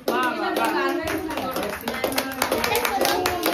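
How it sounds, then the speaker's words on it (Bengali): Several people clap together at a birthday celebration in irregular rapid bursts while voices talk and chant over the applause. "হাততালি হাততালি হাততালি হাততালি"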